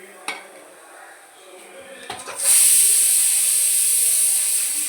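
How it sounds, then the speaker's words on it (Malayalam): A kilo of grated coconut roasting in a pan with onion and curry leaves: a few light clinks, then a loud, steady, close hiss of sizzling that carries on without a break. "നമുക്ക് 1 കിലോ തേങ്ങ വറക്കാം"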